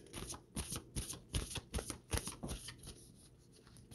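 Tarot cards being shuffled by hand, a quick run of crisp riffling bursts in steady rhythm, close and fairly quiet, fading out near the end.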